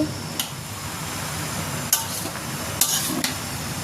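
Softened okra stirred in a frying pan after cooking covered on medium heat: a steady sizzle with a few spatula knocks and scrapes against the pan, close up and without speech.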